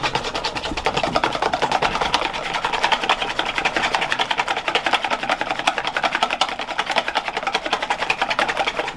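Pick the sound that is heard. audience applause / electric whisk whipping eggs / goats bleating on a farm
electric whisk whipping eggs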